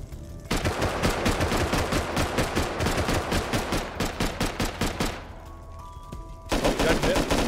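Rapid bursts of explosive-ammo gunfire hammer at a door in the video game Rust. The shots are loud and close, with a short pause before the firing resumes near the end.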